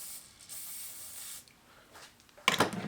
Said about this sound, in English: Let me try lubing it.